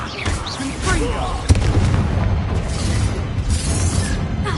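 A Confringo fire spell blasts in Hogwarts Legacy, a punchy boom with a sharp impact over a rumbling wash of combat noise and layered game effects that continues around it.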